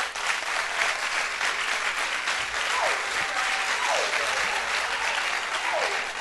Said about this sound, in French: faire applaudir Madame Honorine Gnou, qui était derrière moi